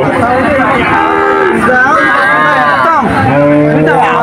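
A cow moos loudly and close by at a busy village cattle market, with long drawn-out lowing calls over crowd murmur and people talking nearby.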